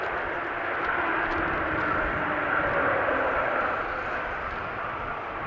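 An El Al airliner taxiing toward the runway at Amsterdam airport on a windy day, its jet engines a steady distant whine and rumble that swells slightly in the middle.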